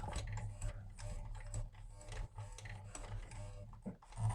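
A sewing machine stitches a waxed fabric tool roll, whirring in short, uneven bursts with ticking mechanical clicks, close but fairly quiet.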